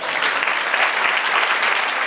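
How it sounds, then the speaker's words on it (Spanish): Church congregation clapping during a sermon, a loud, dense burst of applause filling the space for about two seconds. "Den un aplauso al Señor."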